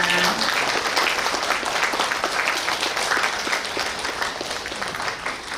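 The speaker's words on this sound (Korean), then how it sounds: "박수 치면서 촬영해보겠습니다." Audience applause fills a municipal city hall conference room at the close of a novelist's invited lecture, dense steady clapping from a crowd lasting several seconds and slowly tapering.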